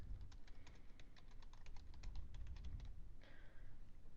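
Quick, light keystrokes on a computer keyboard, typed in a steady run of clicks and then a short pause before a few more taps, close and fairly quiet against a faint room hum.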